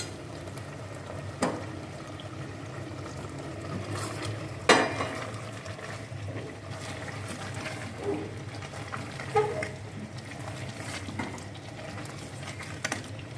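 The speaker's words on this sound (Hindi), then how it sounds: "ये मसाला मैं इस पर डालने लगी हूँ चिकन में, डाल के इसको अच्छे से मिक्स कर लें" Spice masala is stirred into chicken for chicken karahi in a pan, with soft scraping, occasional spoon knocks and a faint simmering sizzle underneath.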